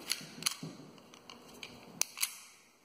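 A Ruger LCP II pocket pistol's single-action trigger is pulled and reset, giving a few sharp, close mechanical clicks spaced apart in a quiet room.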